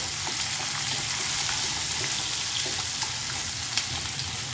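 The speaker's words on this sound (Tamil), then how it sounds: "சின்ன வெங்காயம் பூண்டு எல்லாம் நல்லா வதங்கட்டும்" Steady sizzling and crackling of shallots and garlic frying in a hot pan, close and continuous, with occasional faint stirring clicks.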